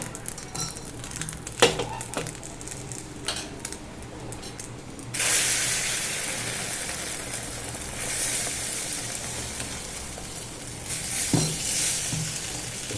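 An omelette fries in a pan over a medium flame, giving a steady, close sizzle that swells after a few seconds, with light utensil clicks and scrapes early on.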